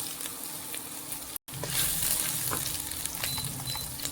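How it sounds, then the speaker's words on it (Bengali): Chopped garlic and ginger frying in hot oil in a wok for moringa flower dry Manchurian produce a bright, hissing crackle that swells after a brief cut, steady and close, with no voices. "গরম তেলে দিয়ে দিলাম রসুন কুচি"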